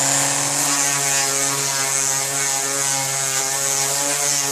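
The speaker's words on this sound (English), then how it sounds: "I'm going to go back to an 80 grit on the hand sander, and I'm going to smooth out some of the imperfections left by the grinder" Hand sander running 80-grit sandpaper over a 2007 KTM 65 SX dirt bike part, a steady close whirring drone with a constant pitched hum and rough grinding texture throughout.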